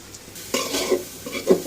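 Long beans and carrots stir-frying in a pan, with short bursts of sizzle and scraping as a utensil turns them, in a few uneven pushes over a quiet background.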